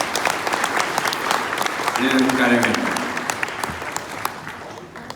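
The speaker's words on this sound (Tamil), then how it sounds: "மகிழ்ச்சியுடன் கைத்தட்டி சொல்ல வேண்டும்" An audience at a lecture hall talk breaks into a burst of hand clapping, dense and close, with someone speaking over and after it as the applause fades.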